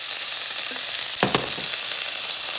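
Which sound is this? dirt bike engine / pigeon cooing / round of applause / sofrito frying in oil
sofrito frying in oil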